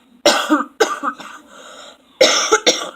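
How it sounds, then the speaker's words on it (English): Several harsh coughs in two clusters, close and loud, separated by a quieter stretch of breathy throat noise. "excuse me, coughing so much"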